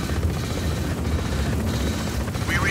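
A helicopter in the video game Just Cause 4, its steady low rotor drone running throughout amid faint game effects, with a brief rising whine near the end.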